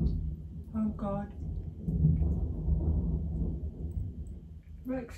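A low, rolling rumble of thunder from a thunderstorm swells and lingers for several seconds, with brief voices at the start and end.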